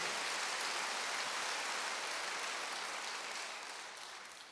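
A church congregation at a Wednesday worship service claps steadily in a dense, continuous wash of applause that slowly tapers off toward the end.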